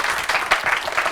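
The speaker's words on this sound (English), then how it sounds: "Let's give Nima a big round of applause." Brief burst of audience applause at a seminar, many hands clapping densely and fairly close.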